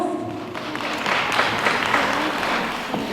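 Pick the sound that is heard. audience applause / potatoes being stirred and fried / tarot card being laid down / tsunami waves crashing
audience applause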